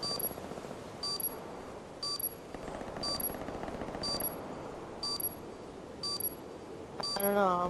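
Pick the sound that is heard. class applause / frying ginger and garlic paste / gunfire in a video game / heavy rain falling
gunfire in a video game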